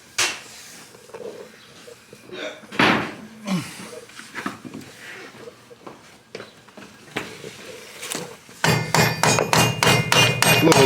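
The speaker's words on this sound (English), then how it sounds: "Little love tap just to move around some of that old rust." A hammer taps a rusty Honda CR-X part, starting with scattered knocks and shuffling, then ending in a fast, loud, close run of rapid metallic taps.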